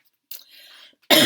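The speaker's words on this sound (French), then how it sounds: "j'ai une toux, j'arrive pas à m'en débarrasser" A woman with a cold gives a couple of short, close coughs, a brief throat-clearing burst followed by a louder harsh cough near the end.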